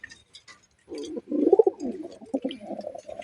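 Rasgolla pigeons coo in a pair indoors, giving low throaty rolling coos close by after a few faint chirps, with soft rustling between calls.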